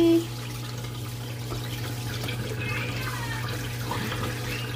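A Panda portable washer drains into a sink: steady running and splashing water over a constant low mechanical hum, close, with a brief louder burst at the start.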